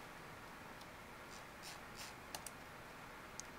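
Faint keystrokes on a computer keyboard during a game coding session: scattered soft clicks, with a few sharper taps near the end, over a quiet background hiss.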